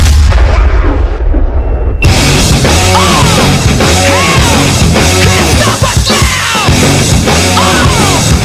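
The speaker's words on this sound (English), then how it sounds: "Fire them cannons." Stadium cannons boom after a Tampa Bay Buccaneers touchdown in the final seconds, loud and sudden, followed by a roaring crowd with yells and cheers continuing throughout.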